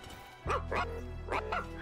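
Dog barks and yips from the video game ReCore: four sharp barks in two pairs, close and fairly loud over a steady low in-game hum.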